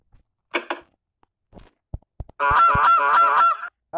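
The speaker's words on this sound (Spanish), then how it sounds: "Así es como suenan los gansos." Goose honking in a mystery restaurant video game: a few loud, harsh nasal honks in quick succession near the end, after scattered clicks and brief calls, with no talking.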